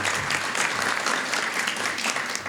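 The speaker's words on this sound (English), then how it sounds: "Let's give him a round of applause." An audience at a healthcare press conference gives a round of applause, a dense, steady wash of many hands clapping close by, with a little voice underneath.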